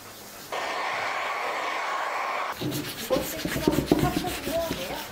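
Sandpaper rubbing over a painted wooden tray in steady strokes, a continuous close scratchy hiss at first, then shorter, uneven rasping passes.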